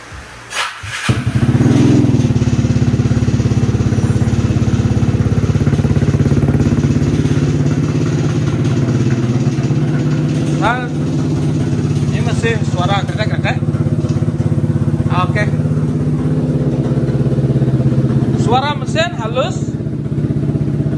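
A bored-up Vespa scooter engine catches after a short cranking burst and settles into a loud, steady, throbbing idle close by, with brief squeaky chirps over it and occasional rev changes near the end.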